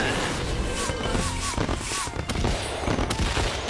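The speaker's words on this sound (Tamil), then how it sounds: "புது ஸ்டைல்ல நீங்க ராக்கெட் விட்டீங்க" Diwali rocket fireworks crackle and pop in dense, rapid bursts amid a noisy outdoor festive scene, with voices mixed in.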